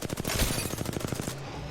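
Rapid automatic gunfire in Apex Legends during a competitive match, a loud, steady stream of about a dozen evenly spaced shots close up, ending in a short tail.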